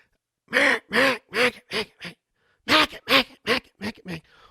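A duck call imitates a bouncing hen followed by a feed chuckle, giving two bursts of about five loud, evenly spaced quacks each, separated by a short pause, close and clear with no talk.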